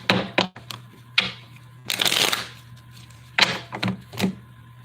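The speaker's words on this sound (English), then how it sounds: "3 more shuffles." Tarot cards shuffled by hand in a series of crisp riffles and snaps, with a longer rustling burst in the middle, close and fairly quiet over a low steady hum.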